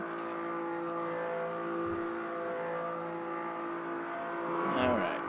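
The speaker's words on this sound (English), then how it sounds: "He's burning out." A stock car in a Brazilian Stock Car racing simulation does a tire burnout, giving a steady engine drone and whir with a swelling squeal near the end, heard under a voice talking.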